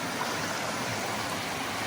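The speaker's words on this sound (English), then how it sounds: "Little waterfalls all the way down through. Cascades." Small waterfalls and cascades along a West Virginia creek make a steady, full rushing wash of water, close and continuous, with no voices over it.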